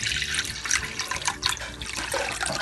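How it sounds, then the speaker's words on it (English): Cold water pours into a jar while making spicy pani puri water, a splashing, gurgling stream with uneven bursts, close and fairly loud, no voices. "Now add cold water to it."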